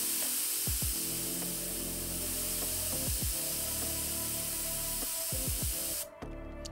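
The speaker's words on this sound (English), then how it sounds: "And now let's test how loud the canned air is." A can of compressed air sprays in one long, loud, continuous hiss with a few faint knocks underneath, cutting off abruptly near the end.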